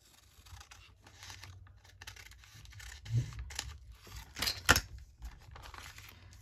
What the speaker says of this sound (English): I'm going to just trim off this messy bit here.